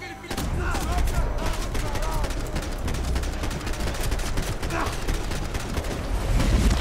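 Submachine gun fire in the shooter game Max Payne 3, rapid dense bursts of gunshots crackling almost continuously at loud, close range, layered with game effects and no clear talk.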